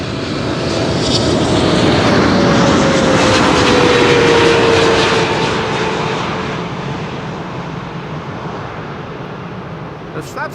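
A China Southern Cargo Boeing 777 jet at Amsterdam Schiphol roars past, a loud broad rumble with a descending engine whine that swells and then slowly fades, while someone talks over it.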